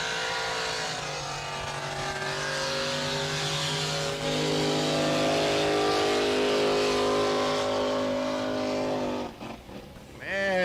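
A drag racing car makes a loud, sustained qualifying pass at Brady, its engine holding a steady, droning roar that shifts pitch partway through before dropping away near the end, with no talking.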